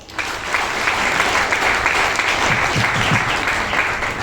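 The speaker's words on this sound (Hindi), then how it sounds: "जोरदार तालियां।" An audience at an indoor meeting breaks into loud, sustained applause, a dense, even wash of clapping that starts abruptly and continues steadily to the end.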